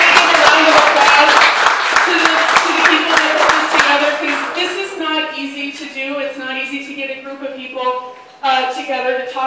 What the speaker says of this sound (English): I think we have to really give a round of applause